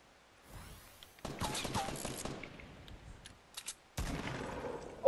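Rapid bursts of gunfire in the Fortnite video game, two stretches of dense automatic fire separated by a short pause, fairly faint, with no talk.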